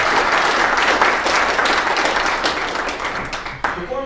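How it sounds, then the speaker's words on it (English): A town hall breakfast crowd applauds state legislators from District 67, dense steady clapping filling the room before thinning out near the end as a voice begins. "Let's give them a round of applause."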